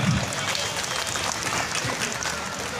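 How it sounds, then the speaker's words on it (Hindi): Crowd at a Jharkhand political rally claps in a continuous, moderately loud wash of applause, with a voice speaking faintly under it. "मंच आपके लिए ताली बजाए, ये मैं आग्रह करता हूं"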